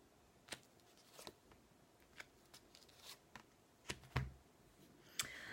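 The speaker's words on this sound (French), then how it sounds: "Je vais recouvrir cette carte." A tarot card is laid down over another card during a card reading, giving soft papery slides and taps scattered through a quiet room, with several brief crisp clicks and one louder thud-like placement near the end.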